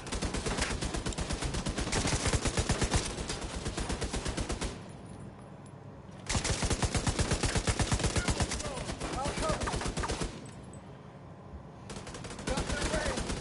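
A laser turret in The Division 2 video game fires in long rapid-fire bursts, each lasting a couple of seconds, with brief pauses between them. The rattling shots are loud and close.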